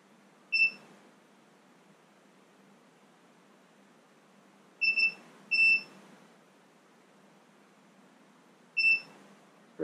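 A multimeter testing the ignition on a 50 HP Mercury Thunderbolt outboard gives short, high, clean beeps. There are four brief chirps, one of them a quick double, separated by quiet gaps over near-silent background hiss.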